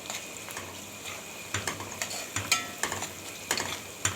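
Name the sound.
onion and chili being stirred in a frying pan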